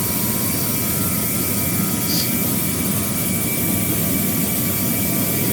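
Steady, loud aircraft engine drone from a flight simulator game as the plane makes a low landing approach near the runway and the throttle is eased up, a continuous roar with faint tonal hums and no talk.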